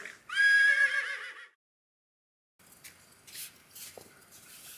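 Race night horse sound: a loud, close whinny rings out for about a second, then after a silent gap comes fainter rustling and hoof movement.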